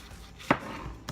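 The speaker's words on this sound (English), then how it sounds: "So my tomatoes are all chopped up." A single knife chop through fresh tomatoes on a cutting board, rough-chopped for a spicy tomato jam, one crisp close knock over quiet kitchen room tone with a fainter tap after it.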